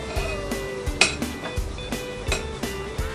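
Spoon scraping and clinking against a bowl while cookie dough is stirred for chocolate crinkle cookies, a steady series of sharp close knocks and scrapes roughly every half second, with no talking.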